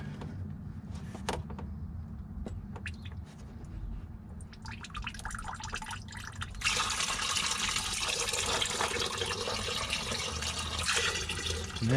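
Coolant drains from the radiator of a 2006 Jeep Grand Cherokee in a steady, close liquid stream with a few drips at first, then grows into a louder, broader gush that runs on without a break.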